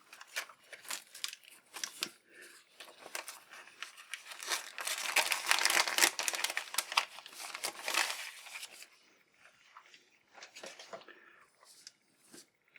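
Plastic toy packaging for a GI Joe Retaliation HISS Tank crinkles and rustles as instructions and a sticker sheet are pulled out, in close, irregular bursts that peak in a dense stretch midway before thinning; no talk.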